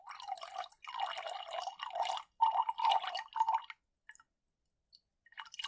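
Water drips and trickles in short bursts, close by, with brief gaps and then a few faint scattered drops near the end.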